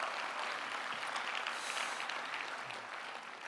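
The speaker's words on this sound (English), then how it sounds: "please give yourself a round of applause for being here tonight" Audience applause fills a room at an evening Gaza benefit event, a dense, even clapping that holds steady throughout and eases slightly toward the end.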